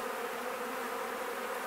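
Dense, steady buzzing of a large mass of bees inside a wooden barrel during a bee rescue, close and continuous with no pauses.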